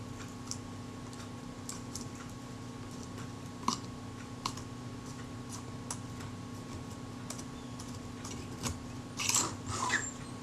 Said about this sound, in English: force my scalpel down hard against the aluminium body to keep it underneath the leatherette so it doesn't slip and cut through the leatherette as I try and cut through this glue layer